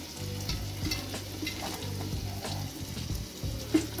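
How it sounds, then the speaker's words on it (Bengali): Spice paste fries in a pan while being stirred, with a soft, steady sizzle and intermittent scraping strokes close by, fairly quiet and without talk. "এবার নাড়াচাড়া দিয়ে কিছুক্ষণের জন্য এটা রেখে দেব।"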